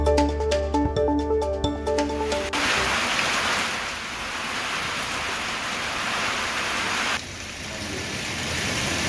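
Heavy rain pours steadily in Morena during a strong storm, a dense, continuous hiss that follows a brief burst of music at the start.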